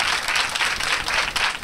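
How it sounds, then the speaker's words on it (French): A crowd applauds at a welcome ceremony at a school complex in Athiémé, producing steady, dense clapping that fills the brief moment, close and fairly loud with no voices over it. "Merci, on applaudit, on applaudit."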